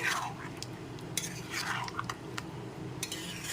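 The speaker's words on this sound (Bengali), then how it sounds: "এবার একটু নেড়ে চেড়ে নিয়ে মাঝে মাঝে ঢাকনা দিয়ে দিয়ে রান্না করে নেব" Poppy-seed chicken curry being stirred in a pan, with a utensil scraping and clinking against the metal in irregular close strokes and a faint sizzle underneath.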